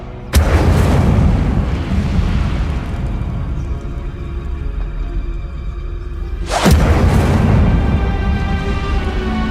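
The Incendio fire spell is cast in the video game Hogwarts Legacy: two loud, sudden fiery bursts, one at the start and another several seconds later, each trailing into a sustained roaring rumble.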